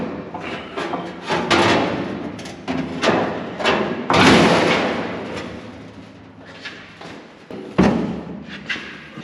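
Sheet metal floor panel being pulled out of a custom 1930 Dodge truck cab, loud irregular thuds, bangs and scraping metallic rattles, some sharp knocks, close up, no talking.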